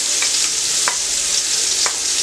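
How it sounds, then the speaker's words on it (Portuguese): Chopped medium onion hits hot palm oil in a pan for axoxó, giving a loud, even broadband sizzle close up, with a few faint clicks of a utensil and no voices. "Colocando aqui a cebola."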